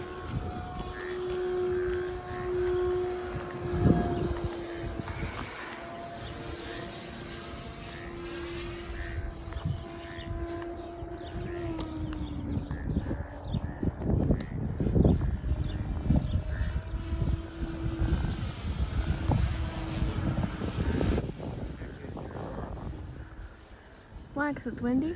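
A 20-pound twin-motor P-38 RC model plane with counter-rotating props, each electric motor pushing 1,800 watts, flies in gusty wind, its motor whine rising and falling near and far with people talking over it.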